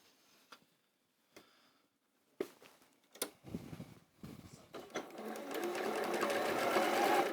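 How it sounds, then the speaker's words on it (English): Domestic sewing machine stitching fabric pieces together, starting with a few isolated clicks and taps, then building into a steady fast whirring run that grows louder toward the end. "So I'm going to sew these together, but it's not going to be square."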